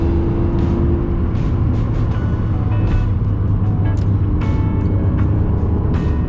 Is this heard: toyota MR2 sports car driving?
yes